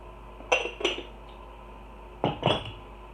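A spoon clinks against a bowl while herb butter spread with black pepper is mixed, two pairs of quick, close, bright knocks separated by a short pause.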